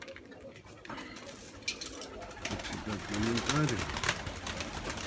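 Pigeons coo at a pigeon loft on a hot August day, soft low coos rising through the middle of the clip under someone talking, with faint clinks and background noise.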